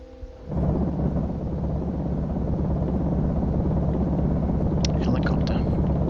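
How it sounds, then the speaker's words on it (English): Helicopter in Project Zomboid passes as a continuous deep rotor rumble that starts suddenly and holds steady and heavy, with faint tonal pulses layered in and a voice over it. "Helicopter."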